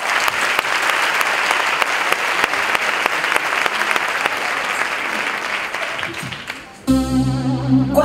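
Dense, loud applause fills an awards ceremony hall for a pair of prize winners, a sustained roar of clapping and crowd noise that breaks off abruptly into music near the end.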